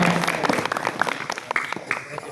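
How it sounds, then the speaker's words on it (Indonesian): Short burst of audience clapping at a Muharram camp held by an Islamic boarding school, with voices and cheers mixed into the brief applause. "tepuk tangan buat semuanya"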